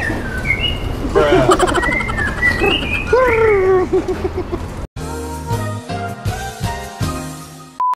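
A bird near a roadside food stall under a railway gives a few short, warbling coos and chirps in the first half, close and clear. Music then cuts in abruptly and takes over.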